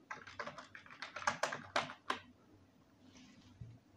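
Typing on a computer keyboard in MS Word: a quick run of crisp, close key clicks, irregular and accelerating into sharper strokes, then stopping for a quiet stretch with faint background hiss.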